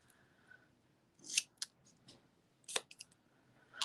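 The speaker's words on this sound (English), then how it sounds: "So anytime there's an opening in there, I get in there and make like a little V. Just because then that gives me room to get in here with my scissors." Scissors trim a rubber stamp with a few quiet, crisp snips in irregular bursts, close and soft against a near-silent background.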